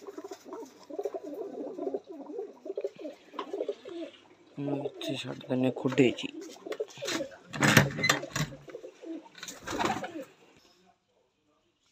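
Pigeons coo in soft, repeated throaty calls, with some rustling and a few quiet words spoken nearby before the sound fades out.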